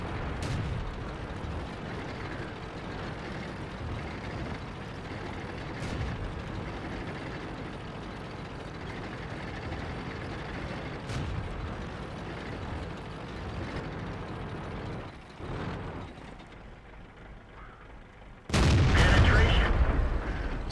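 Tank combat in World of Tanks with a Black Prince taking hits to its track and ammo storage: a steady rumbling engine bed with scattered impact thumps, then a loud, bright burst of gunfire-like blast near the end.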